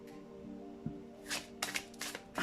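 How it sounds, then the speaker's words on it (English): Tarot cards are shuffled by hand in a quiet room, a few soft riffling bursts and light taps over a steady low hum with no talking. "Let me just shuffle real quick for you."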